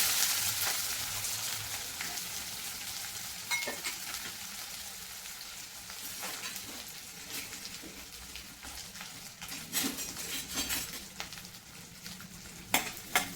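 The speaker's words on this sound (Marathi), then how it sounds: "कांदा छान लालसर होईपर्यंत परतवायचा आहे" Onions sizzle and fry on low heat in a pan with cumin and a pinch of asafoetida, the base of a paneer tikka masala. A continuous close crackling is broken by occasional stirring scrapes.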